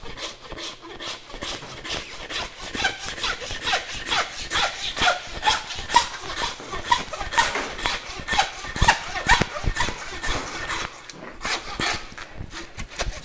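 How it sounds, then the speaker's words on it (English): A handsaw cuts through a beef carcass, separating the round from the sirloin during butchering. Close, rhythmic rasping strokes repeat steadily back and forth, fairly loud and with no talking. "Grab my handsaw."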